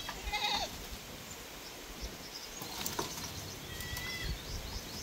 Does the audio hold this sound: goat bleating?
yes